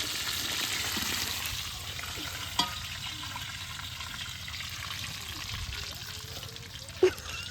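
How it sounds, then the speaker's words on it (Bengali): Potatoes and chicken fry in a pan, giving a steady, soft sizzling hiss that runs throughout, broken by two sharp clicks of utensils. "ধীরে ধীরে রান্না হোক, আলুগুলো ভেজে তোলা হোক"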